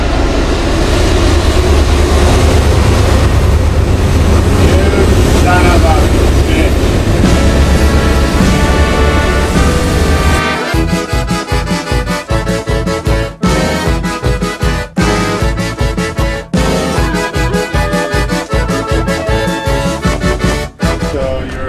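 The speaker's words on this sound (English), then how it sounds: "And here comes the railway." A train rolls past close by near a brewery, a loud, heavy rumble with broadband rattling that gives way to a pulsing, tonal, rhythmic clatter as it continues.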